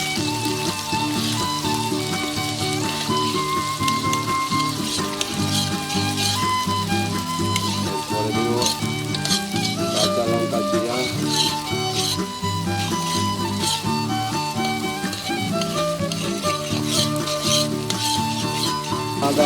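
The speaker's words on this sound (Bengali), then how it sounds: "আমি একটু নেড়ে দিচ্ছি।" Chopped onions frying in a pan and being stirred, a steady loud sizzle with scraping stirs, beneath continuous background music.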